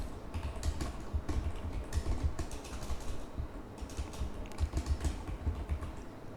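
Steady typing on a computer keyboard while Python code comments are entered, with a dense run of close, rapid key clicks and a few slight pauses, no voices.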